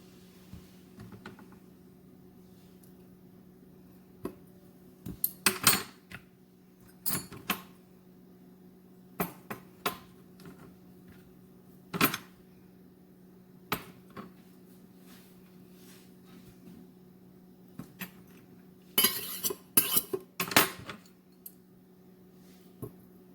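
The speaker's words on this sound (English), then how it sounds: "cut them in half and place the yolks in a bowl" Boiled eggs are cut in half and their yolks dropped into a bowl in a home kitchen, giving scattered clicks and knocks of knife and utensil against board and dish, with a steady low hum beneath and no talking.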